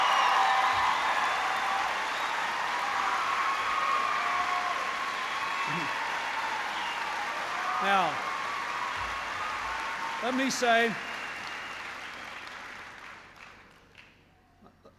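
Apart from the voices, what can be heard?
rally crowd cheering and applauding for a president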